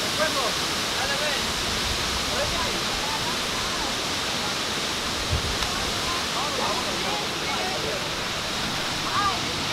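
El Amate waterfall roars as a loud, steady wash of falling water. It is close and unbroken, and people talk faintly beneath it.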